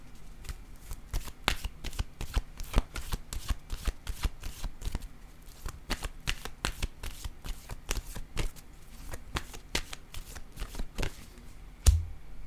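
Tarot cards being handled and shuffled at close range, a steady run of crisp riffling snaps and flicks, with a louder slap near the end.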